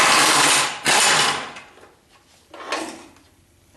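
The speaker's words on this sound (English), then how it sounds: "I'm sure I can get that right off with the impact wrench." Pneumatic impact wrench removing a steering ram bolt on a 1976 Corvette, with two loud hammering bursts up close, a short gap, then a quieter third burst that fades out.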